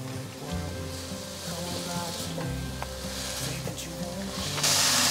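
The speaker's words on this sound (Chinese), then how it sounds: "快速翻炒，把调味料炒匀" Cabbage and king oyster mushrooms stir-fried over high heat with salt, white pepper, sugar and black pepper, giving a steady close sizzle with scraping stir strokes and a louder hiss surge at the end.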